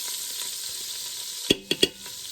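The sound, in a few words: butter sizzling in olive oil, stirred in a pan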